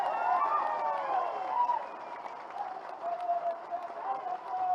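Crowd applause for a political leader at a BRS leaders' meeting with farmers in Lagacherla, Kodangal, steady clapping and cheering throughout with voices mixed in.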